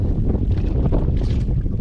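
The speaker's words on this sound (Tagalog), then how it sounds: "Malakas-lakas na yung hangin" Strong wind gusting over open water near an island, with a boat's steady broadband roar and rumble continuing loudly and close throughout, with no voices.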